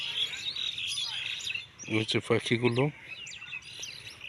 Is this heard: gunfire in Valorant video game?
no